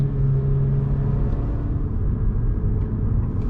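A 2020 Honda Civic Si with a TSP Stage 1+ tune hums in a steady, loud, low engine drone from inside the cabin, holding revs without sharp climbs, no talking.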